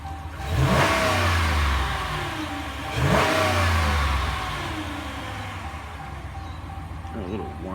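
A 2014 Ram 1500 Sport pickup's engine, fitted with a Mopar Ram Air intake, revs twice in quick succession, each surge rising then falling back toward idle with a slight whine, loud and close.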